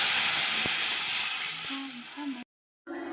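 Dal poured into a hot tempering pan sizzles with a loud, steady hiss that fades slightly, breaks off briefly and then resumes, with a few faint clinks underneath.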